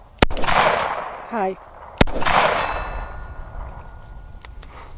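Two sharp, loud Glock 19X shots fired from an MCK chassis at a 100-yard target ring out about two seconds apart, each followed by a rolling outdoor echo, with a faint distant metallic ping after the second and a brief spoken word between.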